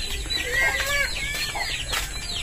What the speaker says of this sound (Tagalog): Manghuhuli pa siya ng ng manok.